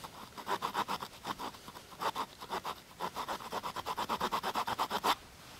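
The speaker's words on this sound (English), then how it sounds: "I'll cut a V-notch just like this, coming in from at an angle." A knife scrapes a V-notch into a poplar bow-drill fireboard, a close series of rhythmic rasping strokes in quick runs, some faster than others, with short pauses between and no speech.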